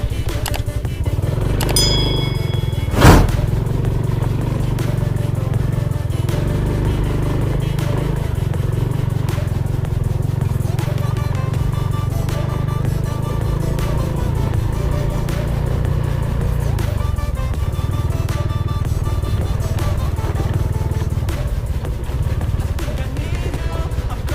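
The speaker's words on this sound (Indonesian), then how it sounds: "Jadi coba dulu kita naik ke dalamnya, naik pakai motor ya" A motorcycle engine drones steadily and loud throughout while riding uphill on a rural road in a Batak highland village, with a brief clatter near the start and light rattling over the constant motor.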